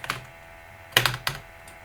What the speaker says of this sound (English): I'm typing this exact number out